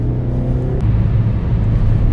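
A Suzuki Swift Sport engine revs loudly from close range, holding a steady drone before shifting into a rougher, deeper rumble under acceleration.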